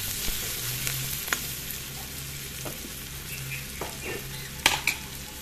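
Oil sizzles steadily in a frying pan as turmeric powder and salt are stirred in, with a spoon occasionally scraping and clinking against the metal.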